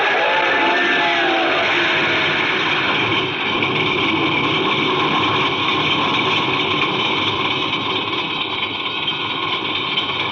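An old car engine idles steadily in a radio drama, a continuous droning rumble with a hissy, broadband texture holding at an even level throughout, close and alone with no voices.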